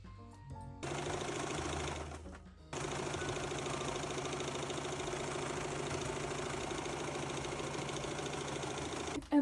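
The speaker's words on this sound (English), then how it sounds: "and then we're gonna keep sewing" Sewing machine stitching a sock pillow, a steady close mechanical hum that starts briefly, pauses for about two seconds, then runs continuously and evenly for the rest, with no talk.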